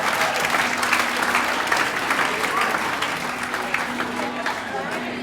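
Audience applause at a 2016 transformation awards night fills the room with steady, dense clapping that holds at an even level throughout, with a faint voice murmuring underneath.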